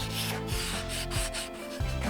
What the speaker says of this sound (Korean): 그런 데를 먼저 사포질을 살짝만 해줄게요